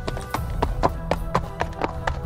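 Horse hooves clip-clopping as horses arrive in a Tagalog aswang audio drama, a steady series of sharp, evenly spaced hoof strikes at moderate loudness over a low background hum.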